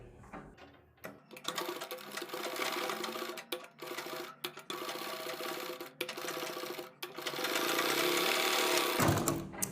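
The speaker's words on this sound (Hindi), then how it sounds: "गोलाई वाले हिस्से पर आप सिलाई लगाएंगे बुकरम के बिल्कुल बराबर बराबर" An electric sewing machine stitches a curved kurti neckline edged with buckram, whirring in a fast steady run broken by a few brief stops. The sound is close and moderately quiet, with no speech.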